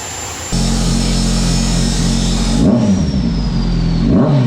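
A Kawasaki Ninja 1000SX fitted with a new aftermarket exhaust idles loud and close, then blips its throttle in two sharp revs that rise and fall back to a deep steady rumble.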